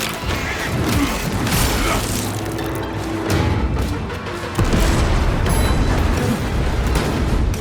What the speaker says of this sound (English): Shock grenade.